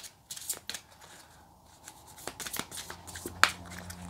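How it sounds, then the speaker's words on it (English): A deck of tarot cards being shuffled by hand, with soft papery riffles and sharper snaps and flicks in an irregular rhythm, close and fairly quiet. "this is a very awkward deck for me to shuffle with my small hands"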